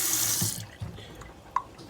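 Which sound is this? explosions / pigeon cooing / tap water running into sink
tap water running into sink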